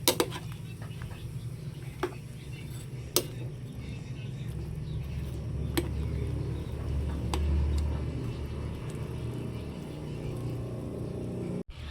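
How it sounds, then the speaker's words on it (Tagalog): Metal spoon clinking and scraping now and then in a pot of sautéed bottle gourd with sardines, a few sharp taps over a steady low simmering hum, close and moderately loud. "Bali, akin lang pong hahaluin."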